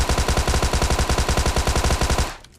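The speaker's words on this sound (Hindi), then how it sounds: "तो इसी थॉमसन से इनकी पेटी बनाते हैं फटाफट।" Thompson submachine gun firing in BGMI (PUBG mobile), one loud sustained automatic burst of rapid, evenly spaced shots that stops abruptly near the end.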